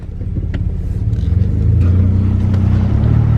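A 1973 Mustang GT pulls away, its engine giving a loud, close, throbbing low rumble that builds and revs steadily as the car drives off, with no talking.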